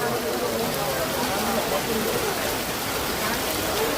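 Heavy rain pours down at the Assam State Zoo in Guwahati, a dense, constant hiss of water hitting surfaces all around, with a voice faintly present beneath the downpour.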